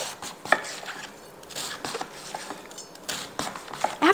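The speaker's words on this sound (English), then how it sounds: "And then we want to go in and just cut our cabbage up. We're going to cut it into chunks." A knife chops cabbage into chunks on a cutting board for fried cabbage patties, irregular thuds spaced about half a second apart, close and fairly loud, with no talk.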